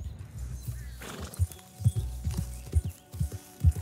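Horse in Red Dead Redemption 2 clopping along with heavy, uneven hoof thuds and a brief whinny partway through, close and fairly loud against quiet outdoor game ambience.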